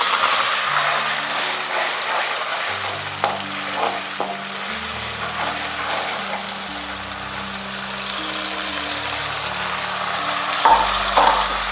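Tomato puree added to hot oil with garlic paste for pav bhaji sizzles and fries steadily while being stirred. The sizzle is close and continuous, with a low tonal hum underneath and occasional scraping.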